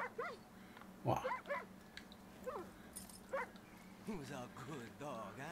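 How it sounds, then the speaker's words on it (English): A dog in the video game Far Cry 6 whimpers and yips in short bursts, then lets out a few soft barks, close and moderately loud over a low steady game ambience. "That's my dog."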